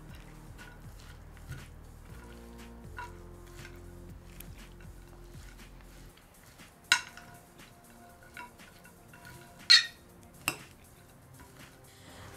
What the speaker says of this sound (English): Once everything is being put together, we have just to mix it.